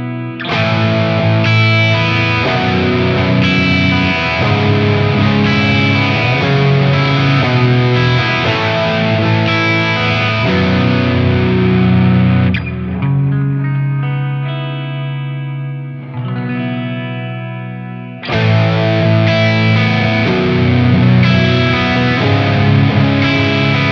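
A PRS 594 Hollowbody and a Ron Thorn Grantura electric guitar played through heavy overdrive, loud sustained distorted chords with a brief thinner passage midway before the full crunch returns.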